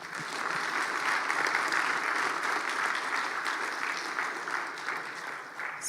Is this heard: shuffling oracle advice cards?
no